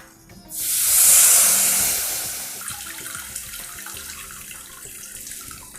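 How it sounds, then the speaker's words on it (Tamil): Tamarind water pours into hot oil with tempering spices such as asafoetida and turmeric, setting off a sudden loud sizzling hiss that slowly settles into a steady bubbling crackle, close up. "நம்ம கரைச்சி வச்சுருக்கோம் இல்லையா இந்த புளி ஜலத்தை இதில் விடலாம்."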